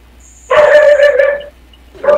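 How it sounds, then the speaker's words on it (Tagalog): A dog barks loudly nearby during a phone call, one longer yelping bark followed after a pause by the start of another, over a quiet line. "Maingay ho yung aso."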